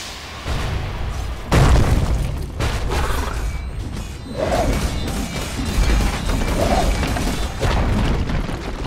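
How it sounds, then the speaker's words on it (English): A defensive tower collapsing in the video game Dota 2, heard as a loud sustained rumble of crashes, booms and crumbling impacts that rise and fall across several seconds. "Dire's bottom tower has fallen."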